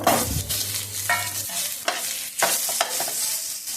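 Cut mango pieces frying in oil tempered with mustard seeds and panch phoron, stirred with scraping utensil strokes over a steady close sizzle, with a few sharper clinks.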